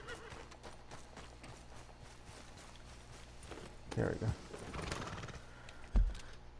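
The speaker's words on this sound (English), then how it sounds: "I'm gonna get back to my horse" A horse in the video game Red Dead Redemption 2 walks with soft, steady clip-clop hoofbeats, then gives a loud, close whinny and snort midway through. Someone speaks briefly over it.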